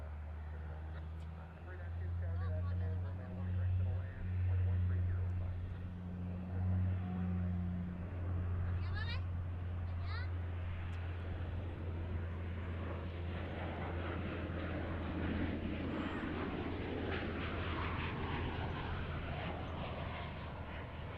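A jet airliner takes off at Dallas Fort Worth International Airport, a loud, steady engine roar and low rumble that swells and holds over twenty seconds while a radio voice talks over it early on.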